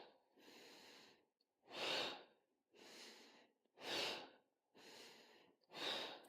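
Strong exhaled breaths in a breathing-and-movement exercise, six forceful breaths alternating with softer inhales in a steady rhythm, close and clear with no talk.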